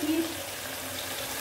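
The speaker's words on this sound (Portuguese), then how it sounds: "Então agora eu vou acrescentar aqui água, até cobrir aqui" Water poured from a tap or jug into a cooking pot of piranha broth, a brief steady gushing stream heard close up.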